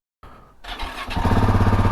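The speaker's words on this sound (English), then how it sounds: "We take it for granted that when you start the engine," A KTM 690 Enduro R motorcycle engine cranks and catches, then settles into a loud, steady idle with a rapid throbbing rhythm.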